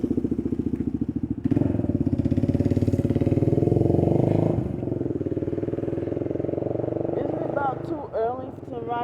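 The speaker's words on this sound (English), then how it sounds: "Early to be riding around in a motorcycle." A motorcycle engine runs loud and close with a pulsing idle-like throb, swelling briefly as it passes, then settling before a short rising rev.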